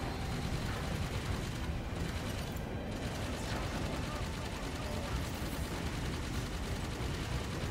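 Dense, continuous gunfire and mechanical weapon clatter from the video game Halo 5: Guardians, with loud, rapid shots layered under a busy game soundscape, with no clear pauses across the stretch.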